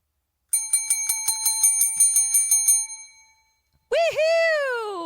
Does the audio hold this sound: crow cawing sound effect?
no